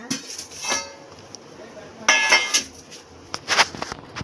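Steel dishes and a serving spoon clink and knock in short bursts as rice and dal are dished out at home, with quiet gaps between the clatters.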